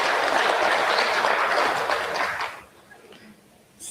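Dense applause from an audience at a presidential candidate forum rolls steadily for about two and a half seconds, then drops off quickly into a quiet room.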